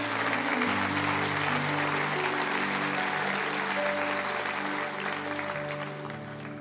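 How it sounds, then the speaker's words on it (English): Church audience applause rises as a dense, continuous clapping wash over held keyboard or organ notes, loud and steady before easing slightly near the end, with no speech. "Come on, clap your hands real big for that."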